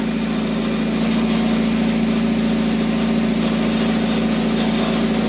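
The engine of a used Komatsu FG15 forklift runs steadily at idle nearby, a loud, even mechanical drone with a constant low hum and no pauses.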